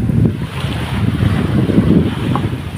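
Steady wind rumbles across the microphone over a continuous wash of waves at the shore, loud and close, with no talking.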